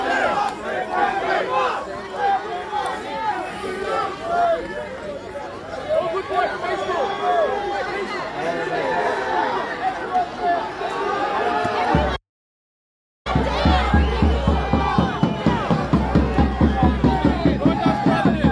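A large protest crowd in Melbourne, Australia cheers and shouts continuously, dense overlapping voices and battle cries, loud and close; after a short gap the cheering resumes in rhythmic chant-like bursts.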